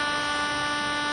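A loud hooter blast from a 1996 radio advert holds a single steady, sustained horn tone, brassy and unbroken for about a second.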